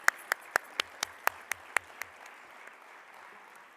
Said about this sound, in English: I think we have to give them a bigger round of applause.